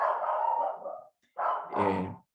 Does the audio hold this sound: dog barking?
yes